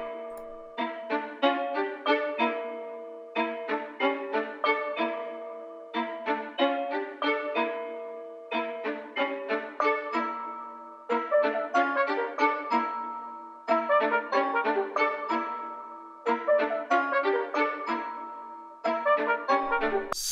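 A bright bell sample melody, a beat element, plays alone as repeated rhythmic phrases of struck tonal notes with quick decays, looping steadily for about twenty seconds.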